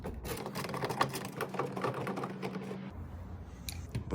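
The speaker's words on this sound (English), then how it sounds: "what we're gonna do is take 3 screws out" Screws being removed by hand with a screwdriver during a headlight install on a 2005–2006 Toyota Sequoia, giving a run of close, small rapid clicks and scrapes for about three seconds before quieting.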